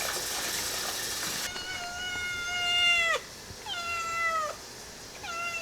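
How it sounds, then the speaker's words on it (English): A kitten cries in a series of long, drawn-out meows, each rising then falling, close and fairly loud, after a brief burst of broadband noise at the start. "are you going for Guinness World Record for the longest kitten cry?"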